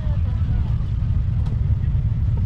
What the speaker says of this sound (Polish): małe regulacje, doregulowanie silnika